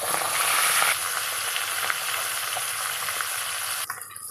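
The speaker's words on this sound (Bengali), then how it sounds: "কড়াইয়ে তেল গরম করে এই মাছগুলো কিন্তু আগে সুন্দর করে ভেজে নেব" Fish frying in hot oil in a wok, a steady dense sizzle with crackling pops throughout, close and fairly loud, briefly dipping near the end.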